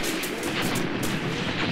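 Mortar fire in the World War II video game Graviteam Tactics: Mius Front, a short burst of repeated dull thumps and pops over a dense rumbling battle background.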